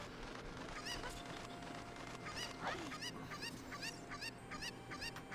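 Cucco chickens in the Zelda Ocarina of Time video game, giving repeated short squawking clucks in a loose rhythm over steady game background sound, fairly faint.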